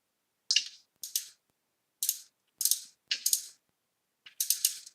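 A long ratchet tightens the bolts on a car's power steering bracket, crisp bursts of rapid metallic clicking in short groups separated by silence, close and clear.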